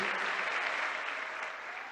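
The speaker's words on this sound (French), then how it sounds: "et nos applaudissements débordantes" A large audience gives sustained, dense applause to welcome President Félix Tshisekedi of the Democratic Republic of Congo, an even wash of many clapping hands that fades slightly toward the end.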